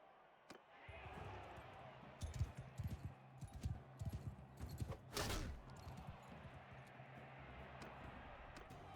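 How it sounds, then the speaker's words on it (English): A horse in the medieval combat game Mount & Blade II: Bannerlord clops along during a tournament, a string of soft, uneven hoof thuds at moderate distance with a sharp swish midway, quiet under game ambience. "Oh, we got a horse."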